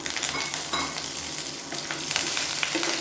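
Cumin, dried red chillies and curry leaves fry in hot oil with a steady, close sizzle and occasional stirring scrapes, continuous for a few seconds with no voices.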